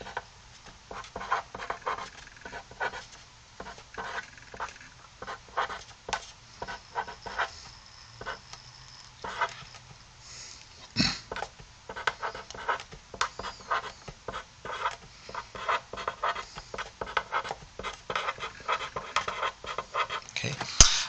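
A chemical structure of galactose is drawn by hand, heard as soft, quick scratchy marker or pen strokes in irregular bursts, close and fairly quiet, with no one speaking.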